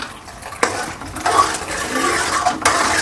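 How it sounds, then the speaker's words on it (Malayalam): Water pours steadily into a cooking pot while rava semiya kichadi is being made, with a continuous splashing rush and a few sharper splashes and clinks of the pot. It is fairly close and heard on its own. "ആ ഒഴിച്ചോളൂ വെള്ളം നന്നാ ഒഴിക്കുന്നു"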